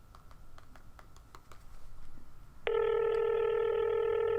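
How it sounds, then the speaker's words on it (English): A phone call is placed to Brad Bourne: a quick run of evenly spaced dialing clicks is followed by a steady, loud ringback tone that holds to the end. "Now I'm going to call Brad Bourne"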